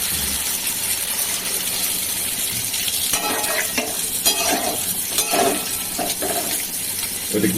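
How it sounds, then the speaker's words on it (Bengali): Hot water poured into a hot pan of curry leaves for a potato and paneer curry, giving a loud hissing sizzle with splashing and stirring clatter throughout, no voices. "এবার গরম জল দিয়ে দিচ্ছি"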